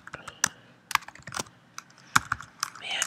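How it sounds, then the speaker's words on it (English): Someone types quickly on a computer keyboard, producing irregular bursts of close, crisp key clicks with short pauses between them and no talk. "Man, I can't type this morning."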